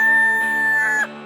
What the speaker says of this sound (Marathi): या बघा ह्या आहेत आपल्या कोंबड्या, मस्तपैकी घोळण करत आहेत